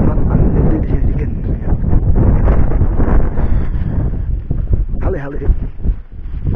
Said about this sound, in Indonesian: Cuman angin gede di sini dikit.